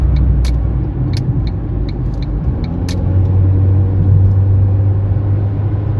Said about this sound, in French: On va quand même freiner un petit coup ici, j'ai pas envie de nous prendre une voiture.